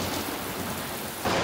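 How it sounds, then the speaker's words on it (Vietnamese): Heavy rain pours steadily in a thunderstorm in a cartoon, a dense hiss with a low rumble of thunder beneath, swelling louder toward the end, with no talking. "tiếng sấm sét lớn quá"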